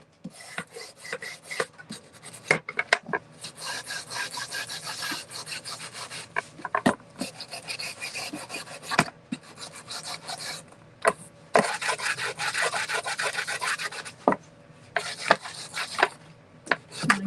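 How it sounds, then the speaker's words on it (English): A micro sander distresses the edges of a wooden Christmas sign, giving dry, close rasping bursts that start and stop in uneven runs, with short quiet gaps between passes and no talking. "And now we're just going to distress the edges with my micro sander."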